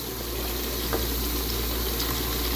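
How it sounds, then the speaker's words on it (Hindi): Steady, even sizzle of onions frying in a hot pan for beef pulao, a constant hiss with faint crackles and no voices. "बस इसको मैं हल्का गुलाबी करूँगी प्याज़ों को"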